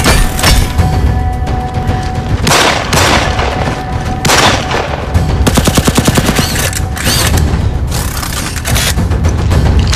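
Dense gunfire and explosions from a Swahili-dubbed action film: rapid machine-gun bursts, single shots and heavy booms keep sounding without a break, with a long rattling burst in the middle.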